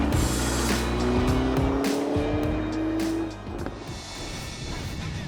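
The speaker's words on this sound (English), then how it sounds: "heading to an infamous driver's road in a very potent Porsche." A 2022 Porsche Cayenne Turbo GT on a winding driver's road near Melbourne: a loud engine note climbs steadily through the gears, with brief tyre squeal, then eases off into road and wind noise.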